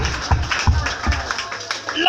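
A church congregation clapping for Jesus, a burst of quick, uneven handclaps heard close alongside a speaking voice.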